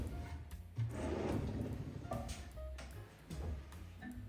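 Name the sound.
built-in drawers opening and closing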